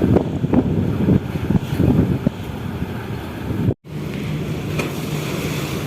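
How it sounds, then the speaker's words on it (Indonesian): Wind and sea waves at Bakauheni port at night, a steady broadband roar with gusting surges, briefly cutting out before resuming at a constant level, no voices. "Dan ini untuk ombaknya ya, biar lebih jelas lagi."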